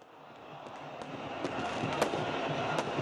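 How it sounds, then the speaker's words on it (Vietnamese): Fireworks crackle and pop over Cairo during mass celebrations in July 2013, a dense, distant wash of bursts with a few sharper reports rising over a steady crowd roar. "Pháo hoa rực sáng trên khắp bầu trời Cairo và các vùng lân cận."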